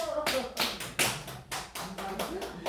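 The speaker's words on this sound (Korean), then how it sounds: "박수." A church congregation claps during a sermon, with a series of distinct, evenly spaced claps, roughly nine in under three seconds, fairly close and quiet, with faint voices in the background.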